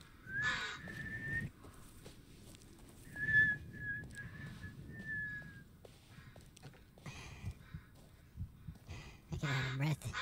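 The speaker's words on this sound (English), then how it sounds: "I'm trying to whistle." A character in the Blair Witch video game whistles for a dog, with several thin whistle tones rising and falling between bursts of other sound, over low rumbling ambience and a few crow-like caws.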